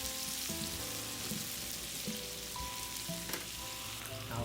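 Chicken fries in oil in a pan, giving a soft, continuous sizzle with faint crackles and an occasional light clink, heard up close and quietly with no speech.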